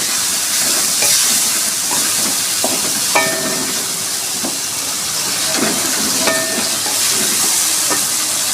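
Ground spices with turmeric and salt fry in hot oil for an egg and potato curry, making a steady, close sizzling hiss broken by occasional small pops and crackles.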